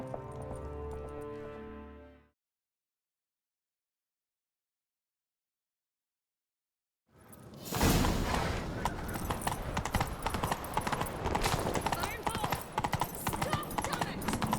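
Horse galloping in The Witcher 3: Wild Hunt, a loud, dense, continuous drum of hooves after a few seconds of silence, with speech and music heard before it.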